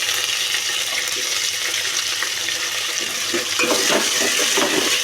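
Onions, green chilies and curry leaves frying in a tempering pan, a steady, loud, hissing sizzle that swells slightly toward the end.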